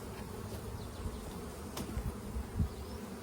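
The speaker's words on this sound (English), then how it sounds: "there's a bit of a traffic jam of bees developing behind me" Honey bees buzz around an open hive being worked with smoke, a faint, diffuse hum of many insects with a few louder passes close by.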